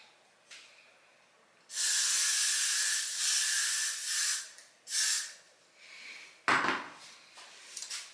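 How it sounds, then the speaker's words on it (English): Several close, hissing hairspray bursts, one long blast followed by shorter spurts, with a bump of handling noise in between. "I'm gonna spray some hairspray on them"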